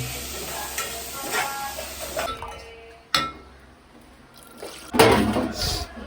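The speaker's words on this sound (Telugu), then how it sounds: "అలా వాటర్ అయితే పోసాం" Water is poured into a cooking pot while making homemade chicken biryani, a steady splashing run broken by clinks and stirring, with a louder burst of pouring near the end.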